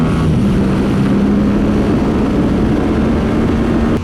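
A Honda CBR 1000 sportbike on a race track gives a loud, steady engine drone with a strong sustained tone that holds throughout.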